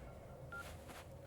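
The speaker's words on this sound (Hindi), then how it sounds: "सर आपके लिए कोई कॉल आ रहा है सर।" A telephone gives a short electronic beep, a single brief tone that signals an incoming call in a Hindi-dubbed action film scene. It sits faintly over a low background hum.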